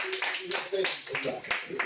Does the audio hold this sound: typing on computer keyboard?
no